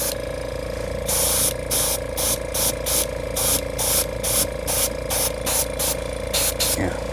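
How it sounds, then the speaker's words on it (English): An airbrush kit spraying paint during a leather repair gives a steady close hiss in rapid, evenly spaced bursts over a constant background hum. "All right, so we're going with the airbrush kit."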